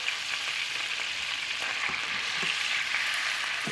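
Lightly floured spare ribs sizzling and browning in a hot skillet, a steady, close crackle of frying with a few small pops and shifts as the meat settles in the fat.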